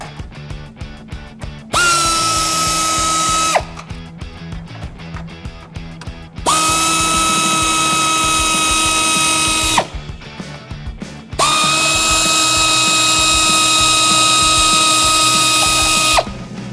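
Three long whines of a power tool spinning at high speed removing 10mm bolts from a 2014-2015 Chevrolet Silverado front bumper, each lasting a few seconds, separated by brief pauses with low background noise.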